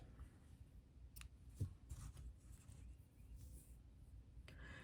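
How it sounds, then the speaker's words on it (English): Scissors snip thread a few times, quick crisp cuts spaced apart against a quiet room. "Scissors."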